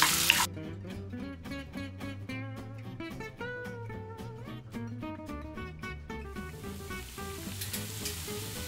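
Beef frying in coconut oil for a Kerala-style beef fry, a steady loud sizzle with crackling bursts throughout, close up and without voices.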